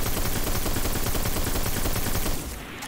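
Hard Light exotic auto rifle from the game Destiny firing a sustained, dense automatic burst, loud and close, cutting off near the end with no talking over it.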